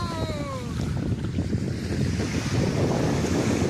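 Ocean surf rolls onto a beach in Rio de Janeiro, a steady broadband wash of breaking waves mixed with gusting wind buffeting the microphone, loud and continuous throughout with no voices.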